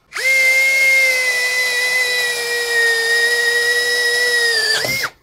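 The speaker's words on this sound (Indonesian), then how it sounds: "Bor kipas dengan diameter di 18 mili, mode drilling speed 2." A cordless DongCheng DCJZ2060i impact drill drives an 18 mm spade bit through a thick wooden beam in drilling mode at speed 2, a steady high whine held for about five seconds before cutting off abruptly.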